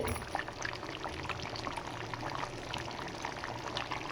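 Liquid poured into a coconut and roasted gram paste while making chicken gravy, a steady, even stream running throughout, fairly quiet and with no talking.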